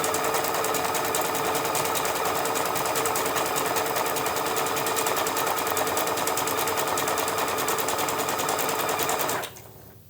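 Sewing machine zigzag stitching a black skyline appliqué onto a tote bag, a fast, even mechanical chatter running steadily and close before stopping abruptly near the end.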